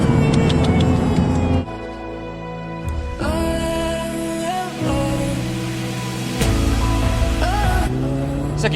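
A turbocharged race car running in second gear on about five pounds of boost, its engine roaring loudly and climbing in pitch through several gear changes over a steady mechanical drone.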